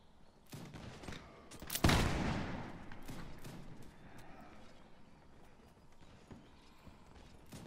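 Horses gallop through a Mount&Blade video game battle, rapid clip-clop hoofbeats mixed with a sharp burst of gunfire near the start and scattered shots afterward, all fairly faint and with no talk.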